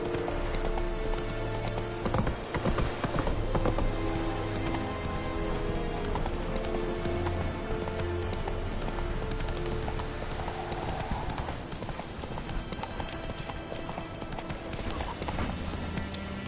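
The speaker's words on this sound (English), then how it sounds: "Not so fast, Roach. Oh, stop. Giddy up" Horse hooves clip-clopping at a steady gallop in The Witcher 3 video game, loud and continuous with a rhythmic beat over game ambience, with some speech present.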